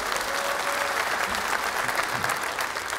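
An audience claps steadily in sustained applause, a dense and even wash of hand claps from a crowd, fairly loud and continuous, with no other sound standing out.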